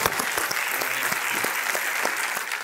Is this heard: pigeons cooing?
no